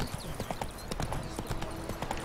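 Roach, Geralt's horse in The Witcher 3, trots with quick, evenly spaced hoof clops on a road, close and clear with faint ambient game sound behind.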